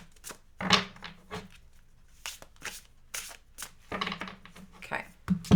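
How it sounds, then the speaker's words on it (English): A deck of tarot cards is cut and handled, producing soft brief riffling, tapping and slapping sounds in scattered bursts, close and fairly quiet, with a voice speaking at moments. "I'm going to cut the deck."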